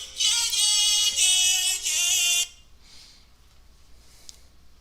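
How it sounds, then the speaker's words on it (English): An alarm goes off with a loud, harsh buzzing tone in three pulses that run together over about two and a half seconds. It cuts off abruptly into near silence and a faint hiss. "That was my alarm going off."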